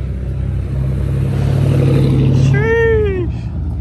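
Someone's race car, tuned by Full Blown Performance, revs at a dig racing event in Mexico: a loud, steady engine drone climbs into a rising, whining rev near the end, with people talking nearby.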